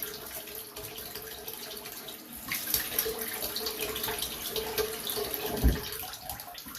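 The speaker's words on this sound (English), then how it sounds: "Go ahead and rinse the head off here." Water running steadily from a tap as a freshly shaved head is rinsed beneath it, a close splashing gush that grows louder and busier partway through, with a few dull knocks near the end.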